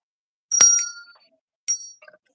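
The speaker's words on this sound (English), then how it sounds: "Let's ring the bell for that one." A small, bright bell is struck twice: a clear ring that fades over about half a second, then a second, shorter ring a moment later, in an otherwise quiet room.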